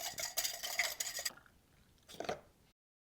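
Yogurt starter whisked in a container, a quick run of rapid scraping, clinking strokes up close for about a second, a pause, then a shorter burst.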